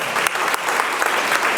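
An audience at a cultural event in Karpathos breaks into sustained applause, with dense, loud, steady clapping and a few sharper individual claps standing out.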